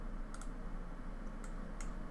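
A computer mouse clicks in software, a few sharp, faint ticks in two small clusters spaced apart over a quiet, steady room hum, with no talk.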